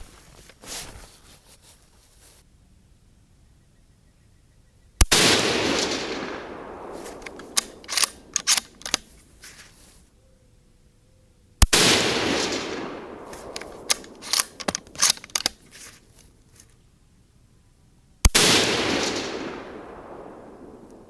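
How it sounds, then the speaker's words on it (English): A rifle fires Hornady Black 155 grain AMAX rounds, with three sharp, loud shots spaced several seconds apart, each followed by a long echoing boom that rolls away, and clicking between the shots. "Let's go do some shooting."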